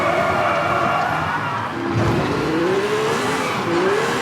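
A Porsche rally car in the video game V-Rally 4 drives and brakes, engine droning steadily with a brief tire squeal as it slows, close and continuous throughout.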